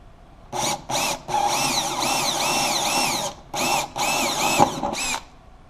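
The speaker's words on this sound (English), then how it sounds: "I'm going to drill some" A power drill boring 5/32 holes to mount a fish-finder transducer bracket, heard as a close, steady whine in several bursts of varying length separated by short pauses as the trigger is released and pressed again.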